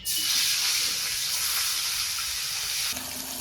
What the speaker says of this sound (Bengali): নামিয়ে দিয়ে বাকি পিসগুলো ভাজি। এখন বাকি পিসগুলো কড়াইতে দিই।